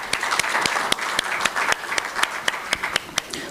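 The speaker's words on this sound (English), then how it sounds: "let's clap for our guests" Audience clapping for guests at an international conference on dialogue and peace in Western Sahara, a sustained close patter of many hands with sharp individual claps standing out in a loose rhythm.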